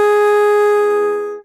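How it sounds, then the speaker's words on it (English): A beginner saxophone blown through the horn gives one loud, buzzy, sustained note held steady before cutting off abruptly, heard alone. "And you should get kind of that squawking kind of sound."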